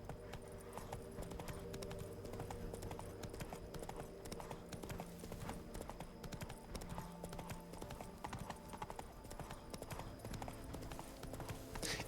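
Roach, Geralt's horse in The Witcher 3: Wild Hunt, trots with a rapid, steady clip-clop of hooves throughout, close and constant over a faint game background.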